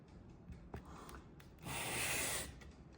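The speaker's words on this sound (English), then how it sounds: "I'm resting the whole panel on the sandpaper, but I'm just putting the pressure at the front edge" A flat panel of expanded PVC is rubbed across sandpaper with pressure on its front edge. A few faint, short scraping strokes lead into one longer, louder gritty stroke in a quiet room. No one talks.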